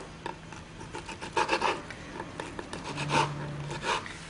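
A knife cuts through artichokes on a board, giving soft, close rasping and scraping strokes in short irregular bursts.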